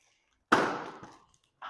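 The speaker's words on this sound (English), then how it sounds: "spray the rail." Lubricant sprayed from an aerosol can onto a garage door rail while changing the rollers, a single steady hiss of about half a second that fades out, followed by a brief second spray burst.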